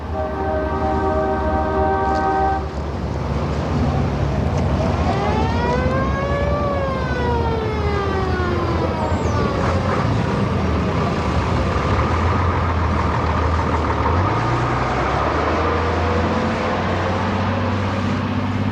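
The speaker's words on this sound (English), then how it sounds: "we saw a caravan of trucks arriving in Kashgar, their horns blowing" A convoy of trucks pulls into Kashgar, horns blaring in long sustained and sweeping tones over a continuous rumble of heavy engines, sounding loud and close throughout.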